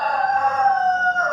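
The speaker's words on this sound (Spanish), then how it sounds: "Es un gallo." A rooster crows once in a single sustained, strained call, loud and close, with no other sound around it.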